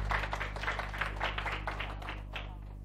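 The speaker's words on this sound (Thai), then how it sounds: "เสียงปรบมือให้ออยหน่อยค่ะ" Brief, soft clapping from a small audience at a cosmetics talk after a cleansing oil demonstration, a short burst of claps over a steady low electrical hum, fading quickly.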